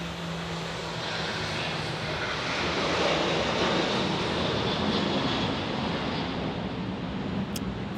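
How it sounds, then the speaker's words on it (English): A Southwest Airlines jet in Nevada One special livery departs Dallas Love Field with a sustained, broad roar that swells slightly and holds steady throughout. "we get a departure first, though, from Southwest Airlines"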